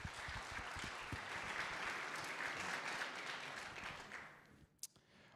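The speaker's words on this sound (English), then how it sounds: "Give a round of applause for Sarah." Audience applause at a university finance society awards event, a steady crowd of clapping hands that carries on for several seconds, then fades out with a few final claps.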